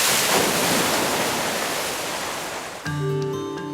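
Broad, steady rush of water from waves in a 300-metre wave research channel able to produce 4.5-metre waves, loud and continuous, with a brief tonal, musical-sounding ending at the close.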